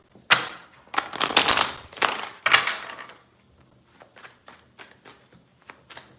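Tarot cards being shuffled in several quick riffling bursts, loud and close, followed by softer scattered card taps and handling.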